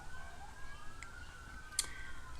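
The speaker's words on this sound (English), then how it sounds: "I'm sorry about the sirens," Faint police sirens wail far off, a thin rising and falling tone under quiet room noise, with a brief sharp click near the end.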